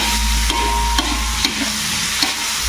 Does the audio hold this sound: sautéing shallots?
yes